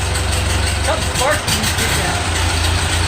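A World War II era Ford 9N tractor engine runs with a steady, close low rumble and hum as the throttle is worked, while people talk over it throughout.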